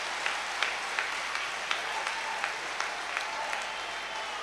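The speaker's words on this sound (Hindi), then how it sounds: "एक बार मेरे लिए भी ताली बजा सकते हैं आप" Audience applause at a Hindi kavi sammelan poetry recital, a steady wash of many hands clapping with a few sharper claps standing out, moderately loud throughout.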